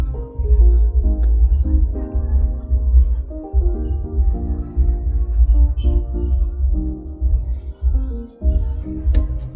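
A keyboard instrument from a Labs plugin plays a sustained chord progression for an Afrobeat-style type beat, dense low tones and layered harmonics holding steady and loud throughout with brief dips between chord changes.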